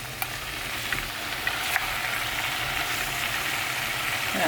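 Sliced radish stir-fries in oil in a pot for perilla seed radish soup, a soft continuous sizzle with a few faint clicks of stirring, heard alone and fairly quiet.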